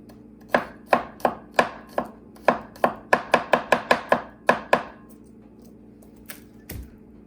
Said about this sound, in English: So we chop up a little bit of this purple onion, nice and fine.